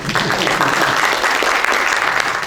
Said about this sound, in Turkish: bir alkışlamanızı da rica edeceğim